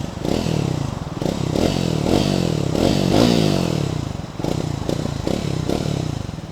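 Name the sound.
Triumph Thruxton 400 motorcycle exhaust note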